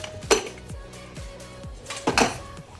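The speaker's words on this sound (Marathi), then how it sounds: "आपण कुकर उघडून बघूया." A pressure cooker that has cooled after two whistles is opened over cooked moth beans. Its metal lid gives a few sharp close clanks and scrapes against the pot in quick succession, with no talking.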